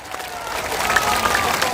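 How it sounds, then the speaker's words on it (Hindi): A crowd at a Jan Suraj Party founding event applauds loudly, with dense continuous clapping that builds and holds, and some crowd noise mixed in. "जोर से बजाइए ताली।"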